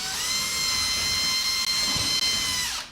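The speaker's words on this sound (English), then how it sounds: "I have a drill here with a very tiny little drill bit." A power drill fitted with a very tiny bit spins steadily into drywall, a high whining hum held for several seconds, loud and close, then winding down at the end.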